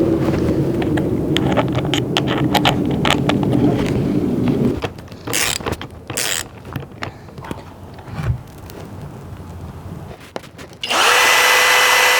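A power drill whirs loudly for several seconds while drilling a hole while fitting side skirts on a Honda Civic, then drops away into scattered clanks and handling noise before a second sharp burst of high whine near the end.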